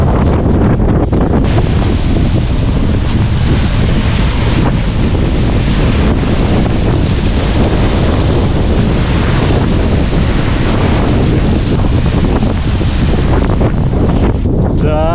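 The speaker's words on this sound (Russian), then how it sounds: "Ветер, еще дождь хлещет." Loud, continuous roar of strong wind battering the microphone with rain lashing down on the Vladivostok coast, a dense unbroken rush from start to finish.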